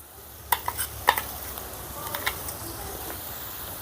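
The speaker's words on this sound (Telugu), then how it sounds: "ఈ వెల్లుల్లి కారం పచ్చివాసన పోయేంత వరకు ఫ్రై చేసుకుందాం" Garlic chili powder frying with softened onions in a pan, a soft steady sizzle broken by a few sharp clinks and scrapes of a spoon against the metal, with no talking.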